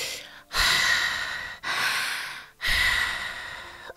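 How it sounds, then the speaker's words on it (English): Three slow, deep breaths taken close up in a quiet room, each a long, soft rush of air with short pauses between, with no talking. "Just take deep breaths, okay?"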